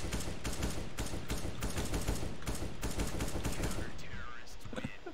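Counter-Strike: Global Offensive gunfire rings out in rapid, loud repeated shots across several seconds, with a faint voice near the end.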